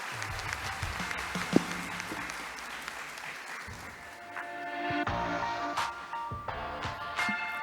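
Applause from a packed plenary audience at a conference session, moderate and fairly distant, thinning out partway through before a second, fainter burst of scattered clapping.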